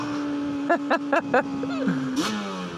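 A Yamaha TDR 250 two-stroke motorcycle engine holds a steady buzzing idle with four quick, sharp revving blips in a row, then a short falling drop, fairly close.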